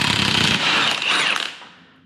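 An impact wrench fitted with a 1.25-inch socket hammers off the pinion nut of a GM 10-bolt rear axle: one close, loud ratcheting burst of about a second and a half, then a fading spin-down.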